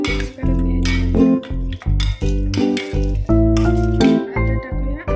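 A metal spoon clinks and scrapes steadily against a bowl while lemon juice is stirred into a chicken lollipop marinade, with bright repeated rings close up and a voice speaking throughout.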